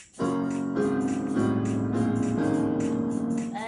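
Piano chords played in succession with the sustain pedal held smear together into a muddy, ringing wash, each new chord overlapping the lingering previous ones.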